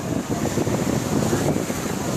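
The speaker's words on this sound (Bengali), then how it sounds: "দেখতেই পাচ্ছেন সমুদ্রের কি ঢেউ, অনেক বাতাস" Sea waves and strong wind on a beach, a steady roaring wash of surf blended with heavy wind buffeting the microphone, constant and loud with no talk.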